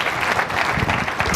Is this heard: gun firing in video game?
no